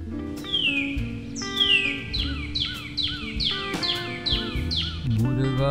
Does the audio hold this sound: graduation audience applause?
no